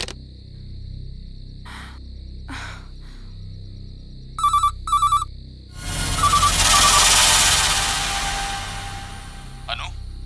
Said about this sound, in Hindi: इस लैंडलाइन पर रिपीटेडली कोई फोन कर रहा है।